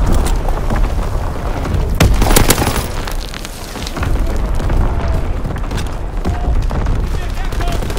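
Heavy artillery barrage in the World War II shooter Call of Duty WWII, with loud booming blasts and dense rolling gunfire throughout, the strongest explosions near the start and continuous battle noise, while radio-style voice chatter plays over it.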